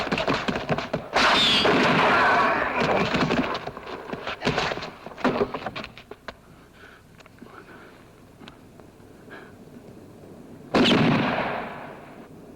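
Gunfire in a 1968 western shootout comes as several sharp, loud bangs spread unevenly across the scene, with a late shot near the end. A voice is heard faintly between them.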